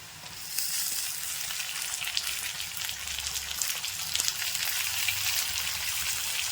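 Chopped tomatoes sauté in a pan for a raw banana curry, giving a steady, moderately quiet sizzle with small crackles and faint stirring throughout, with no voices.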